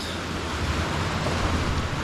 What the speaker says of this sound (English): the waves hit along this wall, and then they splash up and they go brrrr